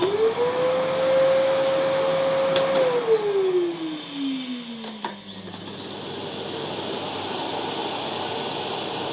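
A vacuum cleaner runs with a loud, high-pitched whine, then is switched off and its motor winds down to a low hum.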